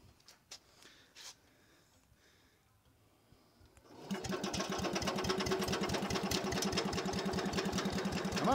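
A Speedex S-19 garden tractor engine on choke catches at about four seconds after a quiet start, then runs steadily with a loud, fast, even chugging beat.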